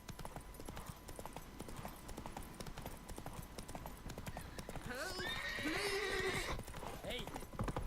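A horse gallops with rapid hoofbeats in The Witcher 3: Wild Hunt, then lets out a loud whinny near the end, with a rider's voice heard over the galloping.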